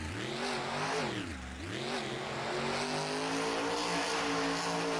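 A monster truck engine roars and revs hard during a freestyle run, a loud sustained growl that dips briefly and then climbs back to a steady high drone.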